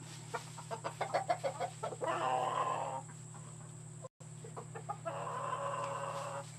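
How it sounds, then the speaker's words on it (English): Chickens clucking in a backyard pen, a run of short rhythmic clucks followed by longer squawking bursts, moderately loud over a steady background hum. "Got some action going on over there in the other chicken pen."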